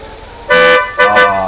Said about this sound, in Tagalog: Isang busina pa.